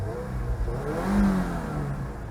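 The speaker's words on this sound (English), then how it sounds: "Push button start, and let's give it a little rev," A 2022 Subaru WRX Limited with a 2.4-liter boxer engine and 6-speed manual, heard from inside the cabin, gives one brief rev that rises and falls back to idle.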